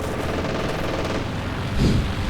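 Heavy machine gun fire in a real-time strategy battle game, a dense continuous rattle of shots beneath a thick mix of battlefield noise, with a louder burst near the end.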